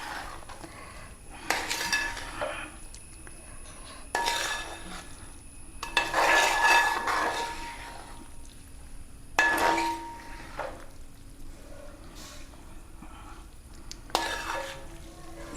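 Aviyal with curry leaves is stirred in a pot, with a few separate bursts of spoon scraping and clinking against the metal between quieter gaps, close and moderately loud.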